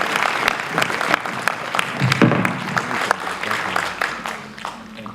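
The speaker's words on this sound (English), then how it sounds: "A big round of applause, ladies and gentlemen." An audience applauds at an award ceremony during a travel company's tour club launch, sustained and fairly loud, with a few distinct claps near the front and faint voices mixed in.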